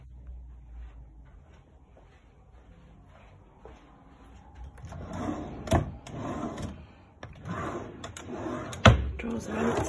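Drawers in a rental property are pulled open and pushed shut during a checkout inspection, giving quiet handling noises at first and then a series of louder wooden knocks, slides and thumps, with no speech.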